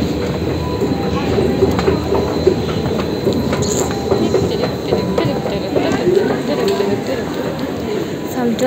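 A Delhi Metro train rumbles steadily along with rattling wheels and faint squeals, a constant loud interior drone with people talking underneath.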